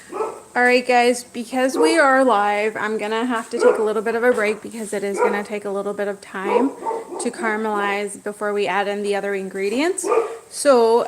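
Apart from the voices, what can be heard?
dog barking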